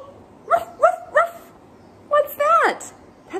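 Barking from a dog in a children's story, voiced by a person: three quick woofs, then a longer, drawn-out pair of barks, close and clear.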